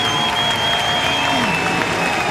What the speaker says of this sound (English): We got so much cheering.